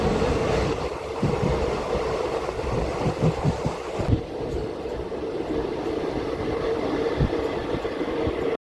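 A DEMU passenger train running along the track, a loud, continuous rumble with rhythmic clacks of wheels over rail joints, heard from inside the carriage and without talk.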